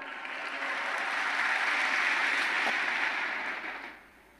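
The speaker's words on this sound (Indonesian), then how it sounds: "Tepuk tangan dong, tepuk tangan." A congregation claps during a combined men's fellowship worship service of a church in Kupang, a smooth, even roar of many hands that holds steady and then fades away near the end.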